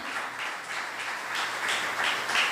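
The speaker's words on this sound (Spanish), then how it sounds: "Denle una ofrenda de palmas al Señor, hermano." A church congregation claps as an offering of praise during a sermon; moderate, steady crowd clapping throughout, with slight swells in intensity.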